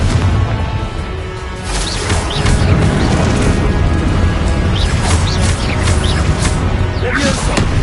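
Confringo fire spell blasting in Hogwarts Legacy, several loud crashing booms and whooshing bursts over a dense, continuous battle din with overlapping effects.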